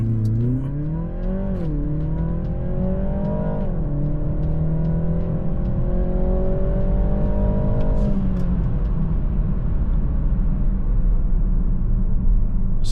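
A BMW 330i with a JB+ tune does a launch-control start, its engine roaring hard and climbing steadily through the gears with a clear shift around four seconds. The sound is loud, close and continuous, with no talk.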